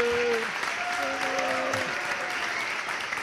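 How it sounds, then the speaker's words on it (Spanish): An audience applauds with a full, steady wash of clapping, while a voice speaks over it briefly at the start. "Y que siga el aplauso para Andrés Llena."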